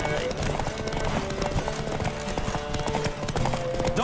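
Horse hooves clip-clop steadily at a gallop in The Witcher 3, a quick repeating beat kept up throughout under music and game sounds, with voices speaking over it.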